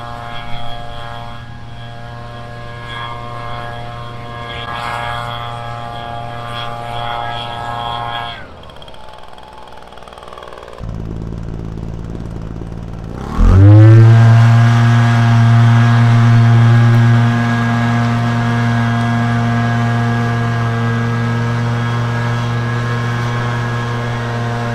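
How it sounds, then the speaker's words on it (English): A gasoline leaf blower blasting air onto a burning log fire outdoors, a loud steady engine whine that drops briefly, then surges back even louder and holds a strong droning roar. "Lots of uses for a leaf blower."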